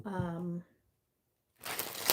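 A deck of tarot cards being shuffled, a brief burst of crisp riffling and rustling up close, following a short spoken word and a pause of silence.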